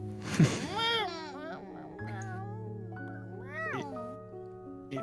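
A human voice imitating a cat, drawn-out rising and falling meows, two or three distinct calls over a faint hum, close and clear.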